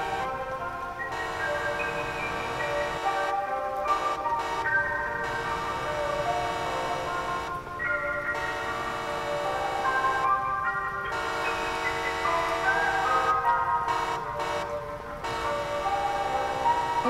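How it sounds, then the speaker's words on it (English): A sustained, tonal vehicle horn blares on and off over several seconds in the video game Midnight Market, loud and steady with brief gaps, sounding like a train horn. "Wait, that sounds like a horn honking."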